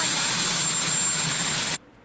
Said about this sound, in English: for folks who can't hear it over the airplane